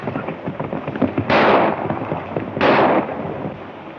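Rifle shots from a 1935 film, two sharp bursts about a second apart that ring out over a muffled, crackly old soundtrack with no talking.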